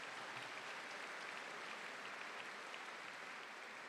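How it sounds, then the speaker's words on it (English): A large crowd at a graduate recognition ceremony gives a steady round of applause for the event staff, a dense, even wash of clapping that sounds distant and fairly faint, with no talk over it. "Could we give all these great folks a big round of applause?"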